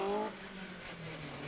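Rally cars racing around Cadwell Park circuit, a loud engine note with harmonic whine that fades slightly then holds steady as a car passes close by.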